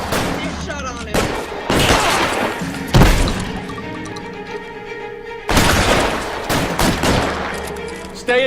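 Gunfire erupts during a bank shootout in the video game L.A. Noire, with loud bursts of shots and crashing impacts in clustered volleys, pausing briefly before another heavy barrage, while voices shout over the fighting.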